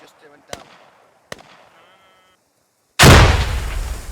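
A grenade explodes in a tactical shooter video game, a sudden loud broadband blast that follows a few faint clicks and quiet sounds, then holds as a long rumbling roar that slowly fades.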